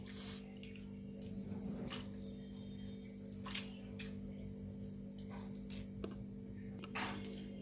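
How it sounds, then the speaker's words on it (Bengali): Thick flattened rice (chira) being washed by hand in water gives quiet, wet squishing with scattered light ticks and taps, all over a faint steady hum. "এবার চিড়েগুলোকে এখানে ধুয়ে নেব"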